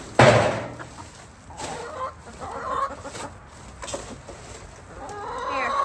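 Chickens clucking close by in a backyard coop, a burst of loud squawking up front followed by irregular, overlapping clucks and calls that rise and fall throughout.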